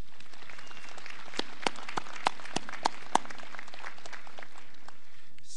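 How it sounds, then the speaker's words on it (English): An audience at a 2011 CSU graduation ceremony claps in a broad, steady round of applause, with a few sharper individual claps standing out near the middle. "Let's give them all a round of applause."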